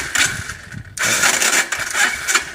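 The electric starter on a Yamaha Breeze ATV cranks the engine in two loud, whirring mechanical bursts separated by a short break, heard up close with no one talking.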